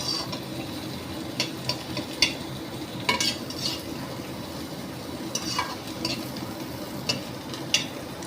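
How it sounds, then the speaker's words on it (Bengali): A spatula scrapes and stirs coconut mutton curry in a pan over a low gas flame: repeated sharp metallic scrapes and clinks over a soft, continuous sizzle, close by and with no talking. "এটাকে এবারে আমি নাড়ানাড়ি করছি"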